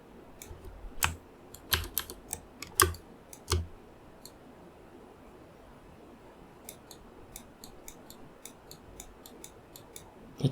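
Computer keyboard presses while working in painting software, a few loud, sharp clicks early on, then a lighter run of quick, faint taps, with no voice.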